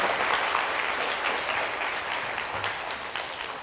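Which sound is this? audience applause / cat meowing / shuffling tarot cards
audience applause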